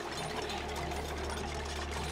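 Vacuum pump running in the video game Oxygen Not Included, a steady mechanical drone with a low hum and busy rattling texture, continuous and fairly loud throughout with no talk.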